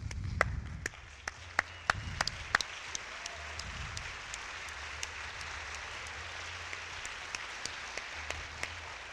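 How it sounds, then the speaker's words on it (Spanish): A room full of people claps in a steady, loose rhythm, the sharp hand claps ringing out clearly at a moderate distance, with brief murmurs early on. "si ahora nos da a todos por hacer palmas, mirar a ver qué pasa"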